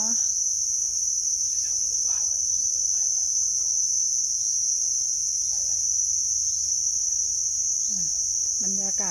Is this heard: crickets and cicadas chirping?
yes